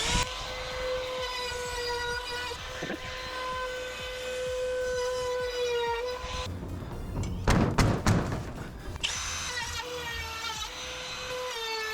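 A drill fitted with a cheap bit whines and grinds into aluminum sheet metal, a sustained tonal whine broken by a burst of harsh, rattling cutting and thumps midway, with speech also present.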